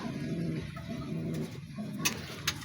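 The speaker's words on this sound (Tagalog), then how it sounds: "Ayun sila mga kalapatids" Pigeons cooing softly in a low, continuous murmur, fairly close, with a couple of faint sharper ticks near the end and no voices.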